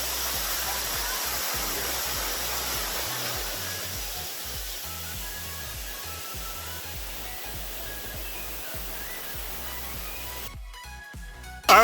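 A waterfall in Grenada roars in a steady, dense wash of water, close and loud, continuing unbroken for several seconds before a brief sharp clatter at the end.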